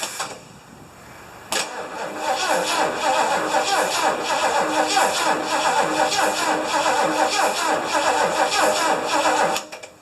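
A 1975 Lincoln Continental with gas poured down its carburetor cranks briefly, then fires and keeps running with a loud, steady, uneven engine roar for most of the span before cutting off near the end.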